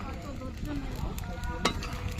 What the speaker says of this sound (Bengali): এই যে কাঠের জালে এখন কচুর তরকারি ফুটছে